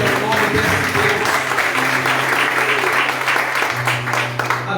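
Congregation applauding during an evangelical Portuguese-language sermon, a dense steady wash of many hands clapping that fills the whole stretch, with a voice speaking faintly underneath.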